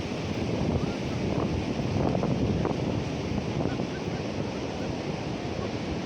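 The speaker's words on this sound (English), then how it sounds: "The sea is beautiful. It's beautiful during the night" Sea waves wash onto the shore at Casablanca at night, a steady, loud broadband roar of surf mixed with wind buffeting the microphone, continuous throughout with faint swells rising and falling.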